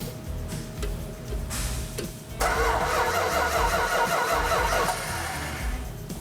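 A 1970 Dodge Challenger 440 engine turns over with rhythmic cranking, then catches and fires up into a rough, loud idle close by.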